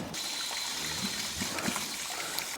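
Water runs steadily through a hose flushing a cleaning ball out of a duo-mix machine, a continuous trickling gush with no talk over it.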